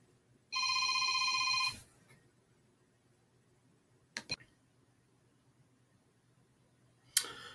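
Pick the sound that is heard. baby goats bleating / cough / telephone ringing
telephone ringing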